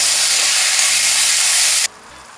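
Chopped tomatoes sauté with softened onions in a pan for pork vindaloo, giving a loud, steady sizzling hiss that stops abruptly near the end.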